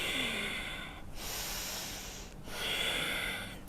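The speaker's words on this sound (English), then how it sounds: "And then exhale." Two long, slow breath exhalations during a Kundalini yoga practice, soft airy hisses close to the microphone, separated by brief pauses, quiet and unaccompanied by speech.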